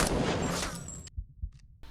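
Gunfire in a battlefield firefight between separatist and loyalist soldiers from the 2024 film Civil War: a dense burst of rapid shots up front, then a few sharp isolated reports separated by near-silence.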